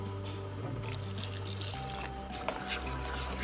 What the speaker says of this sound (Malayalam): കുറച്ചുകൂടി വെള്ളം ഒഴിച്ചു കൊടുക്കണം